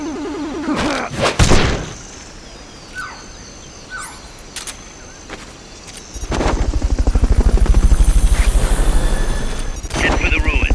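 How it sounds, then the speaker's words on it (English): Fulton recovery helicopter in the video game Metal Gear Solid Peace Walker, its rotor thumping loudly in a fast, steady chop near the end, after a few sharp bang-like bursts and quieter game sounds. "Fulton recovery helicopter is complete."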